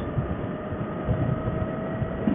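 Kawasaki Vulcan 900 Classic LT motorcycle on the move, a steady low engine drone blended with rushing wind noise, constant and fairly close, with no clear changes in pitch.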